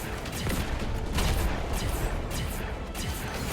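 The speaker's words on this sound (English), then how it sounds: "the Heavenwrought Cannon will rain down fire. Now, feel the might of the barrage." A cannon barrage from an airstrike ability in the video game Duet Night Abyss unleashes a dense, rapid fusillade of booming blasts and crashes that overlap continuously at close range.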